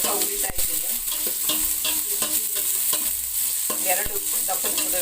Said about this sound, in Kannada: ಅದನ್ನು ಸ್ವಲ್ಪ ಉರಿತಾ ಇದ್ದೀನಿ.